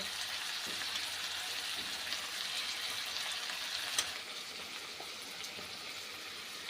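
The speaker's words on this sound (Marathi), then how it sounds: "आता थोडासा मसाला आपण छानपैकी परतून घेऊया" Turmeric, red chili powder and homemade black masala sizzle as they fry for masala rice, a soft, even hiss with faint stirring and one small tap, quiet and steady throughout.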